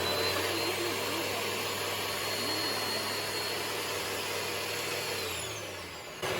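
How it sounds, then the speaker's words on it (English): A vacuum cleaner runs steadily and loudly, sucking cornstarch off fabric interfacing, a constant whooshing roar that eases slightly near the end. "Go ahead and vacuum it."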